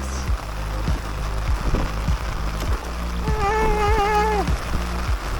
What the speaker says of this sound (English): Oh, that's a lot of water coming down.